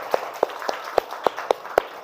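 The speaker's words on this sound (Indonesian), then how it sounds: "Tepuk tangan buat kalian semua." Sharp hand claps from a classroom, about seven or eight distinct close claps in an even, brisk rhythm over a quiet background, with no talking.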